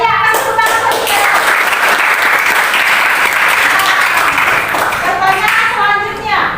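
A university classroom full of students breaks into loud, sustained clapping, dense and even throughout, with a few young voices mixed in.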